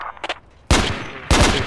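Gunfire in the military video game Project Reality: two loud, sharp bursts of rapid shots, each decaying with echo, preceded by a couple of fainter clicks and rattles.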